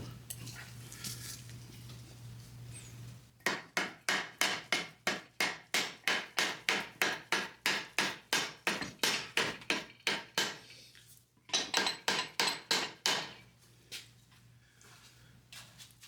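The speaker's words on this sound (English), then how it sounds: "We'll try it with a small mallet." A small mallet taps a part onto the front beam of a 1956 VW Beetle, about two dozen sharp, evenly spaced metallic knocks in a steady rhythm, a short pause, then a quicker burst of strikes, close and clear.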